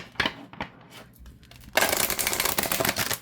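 Oracle cards with foiled edges being shuffled, a few soft taps and flicks at first, then a dense, continuous riffling rush that stays loud and close to the end.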